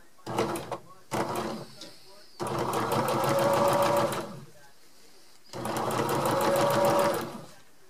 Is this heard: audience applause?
no